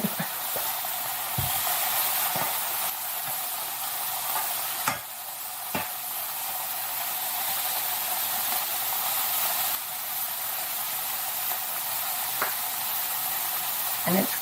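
Chicken fries in a big skillet, giving off a steady close sizzle and hiss with a few sharp pops and clicks scattered through it.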